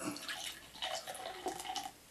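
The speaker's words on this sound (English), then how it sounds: "Take it out, if the tilting action is what does it, I'll pour a little bit." Guinness Draught beer pours from a bottle into a glass in short gurgling splashes with a few pauses between them, close and moderately loud.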